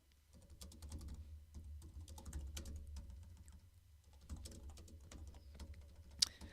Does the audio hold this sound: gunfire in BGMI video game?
no